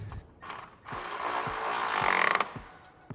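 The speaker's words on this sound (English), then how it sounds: "we're gonna go ahead and fully tighten down the front M10 bolt that we installed. We're gonna use a 13mm socket" A ratchet fitted with a 13mm socket tightens an M10 bolt on a frame stiffener on a Can-Am Maverick R, giving a close, steady clicking run of pawl clicks between brief pauses.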